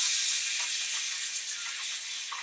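Tomato and ginger paste hitting hot oil in a pan for a vegetarian Kashmiri dum aloo, giving a steady, close hiss and sizzle that holds for the whole moment without any talk.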